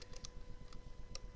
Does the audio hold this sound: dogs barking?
no